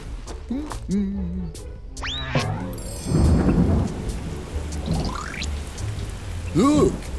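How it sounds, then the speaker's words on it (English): Cartoon rain and rumbling thunder in a children's animated alphabet show, a hissing downpour swelling in the middle with a thunder roll, mixed with cartoon voices and sound effects. "Look, it's raining."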